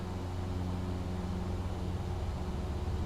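Cessna Skyhawk XP 210 hp single-engine propeller plane at full power with brakes held in X-Plane 12, a steady loud droning engine roar with a low harmonic hum, continuous and close.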